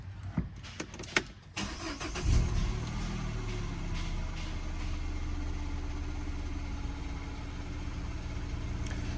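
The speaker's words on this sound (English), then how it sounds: "I'm going to start the car." A Peugeot 207 CC cranks with a few sharp clicks and bursts, catches, and settles into a steady, close idle that runs on alone.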